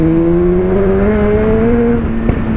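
A motorcycle engine revs in traffic with a loud, close, steady drone whose pitch climbs gradually, then dips and steadies, ending with a sharp thump.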